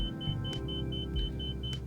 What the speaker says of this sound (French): il nous reste à vérifier l'alarme de décrochage qui se trouve ici